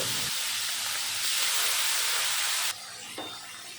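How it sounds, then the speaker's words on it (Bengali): Chopped capsicum dropped into hot salted oil for mutter paneer, an abrupt loud hiss and spitting sizzle that settles into a quieter, steady fry with a brief clatter near the end. "এখন এই তেলের ভিতরে দিয়ে দেব কেটে রাখা ক্যাপসিকামগুলো একটু সময় ভেজে নেব"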